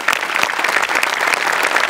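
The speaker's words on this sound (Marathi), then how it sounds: "गेस्ट आपले जे आज आले आहेत त्यांच्यासाठी एकदा जोरदार टाळ्या वाजवूया" Loud, dense applause from a studio audience for guests on a Marathi comedy show, a steady wash of clapping throughout with no talk over it.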